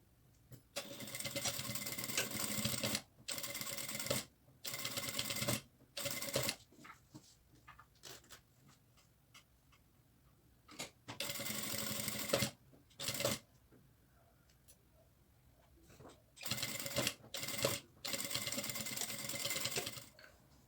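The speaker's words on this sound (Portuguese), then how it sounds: "E aí eu vou costurar então as 3 camadas, o forro, o zíper e a parte externa." Sewing machine stitching three layers together (lining, zipper and outer fabric) in bursts of fast mechanical whirring, several runs separated by pauses with quiet handling noise between them.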